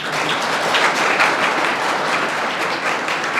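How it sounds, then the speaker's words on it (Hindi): A crowd at a school gathering claps continuously in dense, even applause that stays loud and steady throughout. "तो इसलिए तालियां।"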